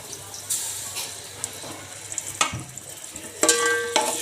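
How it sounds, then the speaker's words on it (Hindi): Onions fry in hot oil in a pot on the stove, a soft sizzle under a few sharp clinks and scrapes of stirring, close and moderately loud. "अब डालेंगे इसमें ये हम प्याज को हम करेंगे गोल्डन।"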